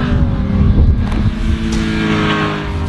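A Honda CBR 1000 sport motorcycle on a track, its engine droning loud and close with a smooth, steady rev and a brief swell as it accelerates.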